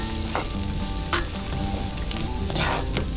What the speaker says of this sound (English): Start sauteing these.